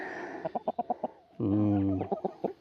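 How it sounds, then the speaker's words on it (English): A flock of chickens feeding on fresh salmon, giving a close series of short rhythmic clucks, then a longer drawn-out squawk before more quick clucks, with no talking. "the most spoiled chicken flock in the world who absolutely love fresh salmon"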